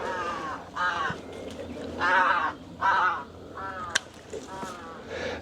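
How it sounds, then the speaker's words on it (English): Crow cawing in a vegetable garden during a harvest: a series of harsh, fairly near caws in uneven bursts, with a quiet voice speaking briefly and a sharp click partway through. "think that crow is a little angry that I'm here stealing its food"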